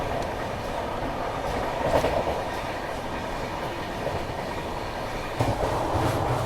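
An express train on a route through Tirupati and Kharagpur rumbles along the tracks, heard from inside with a steady low roar and occasional clattering wheel knocks, no talking.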